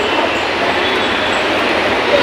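Steady broadband rumble and hiss of a Mumbai metro train running, loud and continuous throughout with no speech.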